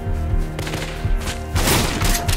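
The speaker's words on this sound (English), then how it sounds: "I'm just gonna Tommy gun you" A Tommy gun fires in the survival game Rust, rapid automatic bursts that are loud and close, with booming impacts and no talk over them.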